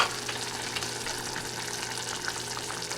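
Pastelón filling seasoned with adobo all-purpose seasoning fries in a pan, giving a steady close sizzle with faint scraping stirs throughout and no voices.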